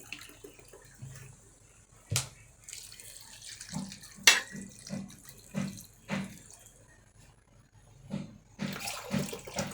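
About a kilogram of water is poured into a pot of spicy chicken curry, making soft intermittent splashes and gurgles that come in short bursts, fairly faint and close, with no talking.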